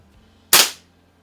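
A single sharp crack from a Benjamin 137 pistol fired at a bullseye target, a loud close report with a quick decaying tail, otherwise near silence.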